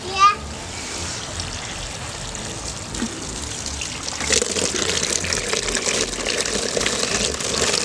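Water pours and trickles into a container of collected bugs, a soft splashing gush that grows fuller toward the end, with a voice and talk mixed in.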